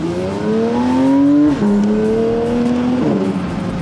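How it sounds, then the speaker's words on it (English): A 2022 Porsche 992 GT3 sounds its exhaust while driving fast, a loud close engine note climbing in pitch through two pulls with brief dips between gear changes, no voices over it. "Just hear that exhaust note outside."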